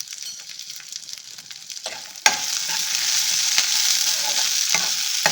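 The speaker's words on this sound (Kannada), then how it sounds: "ಇದೆಲ್ಲ ಚೆನ್ನಾಗಿ ಫ್ರೈ ಮಾಡ್ಕೊಳ್ಳೋಣ." Pepper, poppy seeds and field beans fry in a pan, starting as a light crackle and jumping to a louder, steady sizzle with occasional stirring scrapes, close up and without voices.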